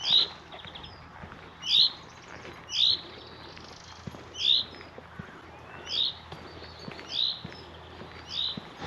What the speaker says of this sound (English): There's another swallow, look at them.